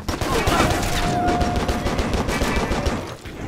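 Gunfire erupts in the video game Stranglehold, a dense, continuous fusillade of rapid shots crackling close and loud for several seconds before thinning slightly near the end.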